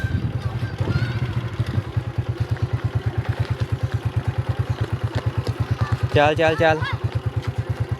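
A motorcycle carries a boy to school, its engine thumping in a fast, even putter close by throughout, while someone speaks briefly over it.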